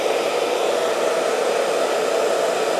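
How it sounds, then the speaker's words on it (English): A hair dryer blows hot air onto a helmet camera mount to soften its glue, a steady, unbroken whirring roar that holds at an even level throughout. "So I've got my hair dryer, and I'm going to heat this up till it's nice and warm to loosen the glue"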